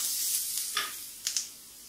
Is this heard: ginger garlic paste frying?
yes